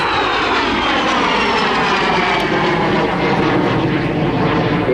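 A de Havilland Vampire FB52 jet flies past at Southport Airshow with a loud, steady engine roar whose pitch slowly falls as it passes, heard alone.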